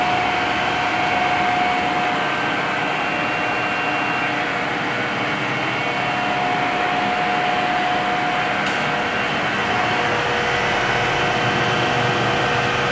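A 1981 Neppei centerless grinder runs with its grinding wheel spinning, giving a smooth, steady, even machine drone with a thin constant whine and no talk over it.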